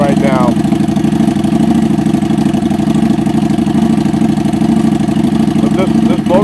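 The engine of a 2015 Harley-Davidson Street 750 motorcycle idles on a cool day with a loud, steady, close throb. The rumble continues unchanged with no talk over it.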